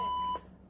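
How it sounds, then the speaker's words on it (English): A workout interval timer gives one short, loud, high electronic beep that cuts off sharply, leaving only quiet room tone. "I'm just going to go and turn my timer off."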